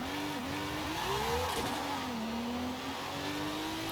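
Mercedes AMG GT3 race car in Forza Horizon 5, engine revving loudly and steadily with pitch climbing and dropping through gear shifts, close and continuous.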